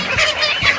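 Laying hens in a poultry cage on an egg farm give brief, overlapping clucks, a short burst of busy flock chatter that swells twice within under a second.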